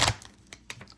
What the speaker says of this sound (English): Hold on, let me shuffle the top ones